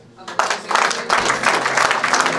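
A church congregation breaking into applause, with clapping that swells quickly after a quiet start and carries on in dense waves while voices call out over it.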